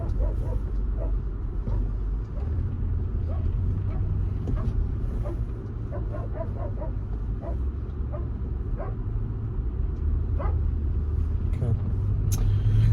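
Steady low road rumble and engine drone inside a 2006 Range Rover Sport on a test drive, continuous and fairly loud throughout, with faint scattered ticks and a voice or dog-like sounds above it.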